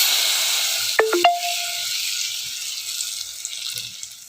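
Fried tempering is poured into a tender jackfruit curry, giving a brief splash and sizzle that fades into a soft, steady hiss in an otherwise quiet kitchen.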